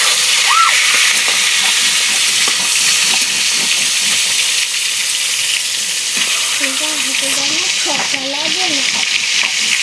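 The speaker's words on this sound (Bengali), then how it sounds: "এই যে তেল গরম করা হয়ে গেছে। মাছটা একটু ভেজে নেব।" Fish frying in hot oil in a wok, a loud steady sizzle and hiss running continuously, with someone speaking briefly over it and some stirring clatter.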